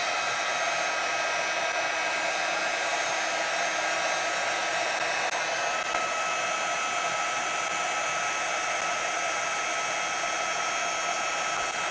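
A heat tool blows hot air to heat-set ink on an artist trading card, a steady loud whooshing hum that runs unbroken and close throughout.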